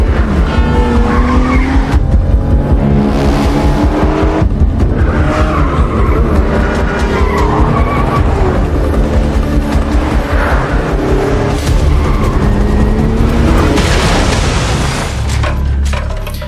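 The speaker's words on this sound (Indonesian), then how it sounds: "si atasan menancap gas, namun hal itu membuat mobilnya menabrak" A car in an action film roars as it accelerates hard, with engine revs rising and falling, tire squeals and a loud crashing impact near the end, all very loud with no talk.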